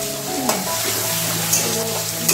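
Onion and a small tomato, salted, fry in a pan for homestyle chicken biryani while being stirred, a loud close sizzle with a few scraping strokes of the spoon at regular intervals and no talk.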